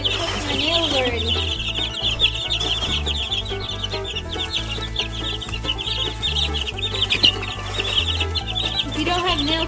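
Two-week-old chicks cluck and peep busily and continuously, close up, with steady chirping throughout alongside some background rumble.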